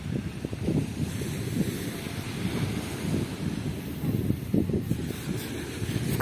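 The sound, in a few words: sea waves and wind at the beach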